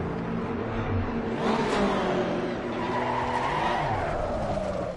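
Tyres skid and squeal on a car in a racing video game as the player weaves to warm them, a continuous loud screech over steady engine drone with rising and falling pitch sweeps.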